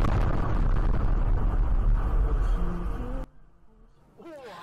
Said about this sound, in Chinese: 这个爆炸瞬间发出了巨大的声响